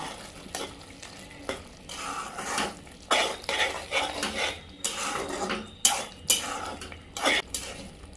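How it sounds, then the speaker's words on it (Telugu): A spoon scrapes and stirs wild mushroom curry in a pot, making repeated uneven scraping and clattering strokes with a soft sizzle beneath, close and fairly loud, with no talking. "ఇది ఇట్లా కలుపుతూనే ఉండాలి మంచిగా, లేకపోతే అడుగంటున్నట్టు కలుపుతుంది."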